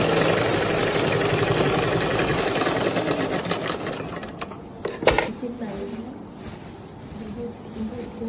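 A sewing machine stitches a cloth purse with a loud, continuous motor hum and rapid needle chatter that slows and stops about halfway, followed by a few clicks and handling noises.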